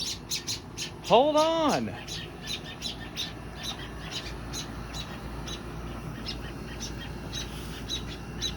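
A hungry baby bird gives a loud rising-and-falling squawk close by, amid repeated sharp, rhythmic chirps that carry on throughout, with a person speaking briefly over them.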